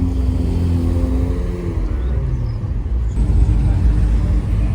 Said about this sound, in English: And there's 2 Ferraris coming down.